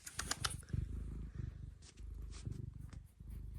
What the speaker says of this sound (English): Yeah, he's purring.